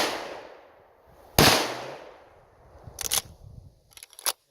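A Marlin Model 336 lever-action rifle in .30-30 Winchester fires one sharp, loud shot, and the report echoes and rings out over the next second. Two or three fainter, shorter cracks follow near the end.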